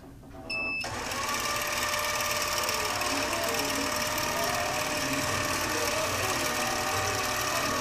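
A computerized quilting machine starts stitching after a short beep and then runs with a steady, fast mechanical whir and needle chatter that continues unbroken, loud and close, with no talk.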